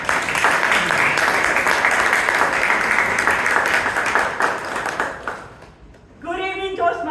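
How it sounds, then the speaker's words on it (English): Audience applause at a Bangalore Toastmasters club meeting, several seconds of dense, steady clapping from a room full of people that fades out toward the end, followed by a voice starting to speak. "Let's give her a big round of applause."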